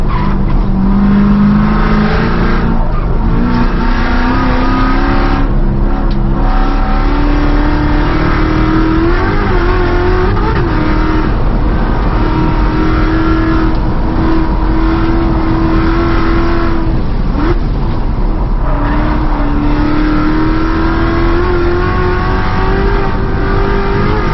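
A C7 Corvette Z06 race car engine roars continuously through a lap at Buttonwillow, with the rear fender liner removed, revs rising and falling with gear changes, loud and close, with occasional tire squeal.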